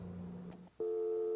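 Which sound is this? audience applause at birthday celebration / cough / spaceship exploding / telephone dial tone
telephone dial tone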